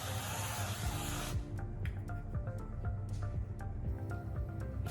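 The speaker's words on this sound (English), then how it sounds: "I'm using olive oil cooking spray." A close, steady hiss of olive oil cooking spray lasts about a second and then stops, followed by faint clicks and clinks.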